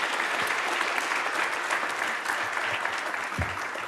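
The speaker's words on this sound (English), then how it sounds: "An applause for the wonderful panel." A conference audience at a European corporate governance event applauds a panel, with a continuous wash of clapping from many hands that stays even and moderately loud throughout.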